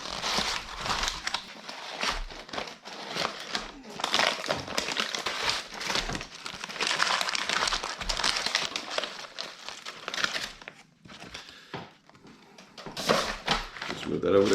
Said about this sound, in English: now we are going to unwrap the brisket from the butcher paper